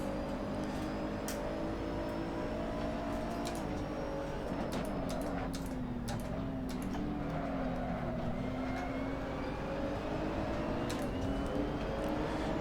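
Race cars in the Assetto Corsa video game during a Blancpain Sprint Series race at Misano, including a Nismo GT-R, with steady engine drone rising and falling through gear changes, several cars close together, loud and continuous without talk.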